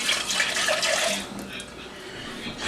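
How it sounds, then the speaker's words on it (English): A small amount of water splashes from a can into a pan of lasagna roll-ups topped with sauce, a brief close trickle that fades toward the end. "just put just a little bit of water in there"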